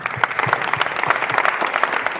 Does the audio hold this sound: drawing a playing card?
no